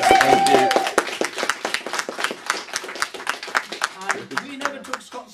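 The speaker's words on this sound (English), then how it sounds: "I would like everyone to give Scott Walker a big round of applause" Audience gives a round of applause at a local party meeting's award moment, a burst of many hands clapping that thins into scattered claps, with a voice heard at the start.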